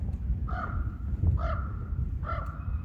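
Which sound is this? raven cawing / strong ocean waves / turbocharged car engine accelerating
raven cawing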